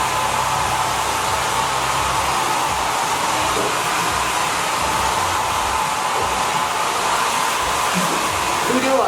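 Holistic Cure hair dryer running on its airy quick-dry mode while drying hair, a loud, steady, unbroken whoosh of blowing air close to the listener.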